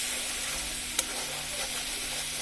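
Spicy masala paste being sautéed in a pan, a faint, even sizzle with a single light clack of the spatula.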